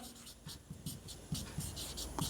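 Chalk or marker strokes on a classroom board during a chemistry lecture, a series of short scratchy taps and squeaks in irregular rhythm, fairly close and moderately quiet, with no talking over them.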